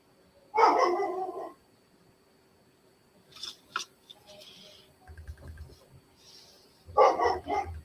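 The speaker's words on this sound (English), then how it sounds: "start barking now downstairs" A dog barking from downstairs in a house, a few sharp, moderately distant barks in separate bursts with quiet gaps between them.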